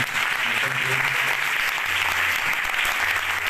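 Audience applause for a tabla player at a live worship gathering in Lahore, a continuous, full-bodied patter of many hands at a steady level, with a faint low tone humming underneath.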